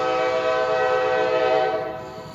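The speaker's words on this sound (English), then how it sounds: "there's a train coming" A passing train, heard as a loud sustained horn-like tone with steady harmonics holding for about two seconds before fading slightly, with no talking.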